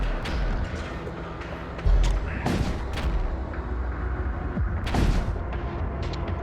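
Spaceship weapons fired manually in the space combat game Void War: a series of sharp blasts and booms crack out at irregular intervals over a busy, rumbling background.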